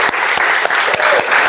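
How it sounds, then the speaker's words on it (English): A beekeeping club meeting breaks into a short, loud burst of applause: dense, close clapping from a crowd of members, heard alone without speech. "If we can have a round of applause."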